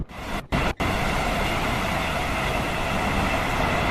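An Avanti Evero train runs in Train Sim World 6 as a loud, steady rumble and roar from outside the carriages, briefly cut twice near the start, then continuing unbroken.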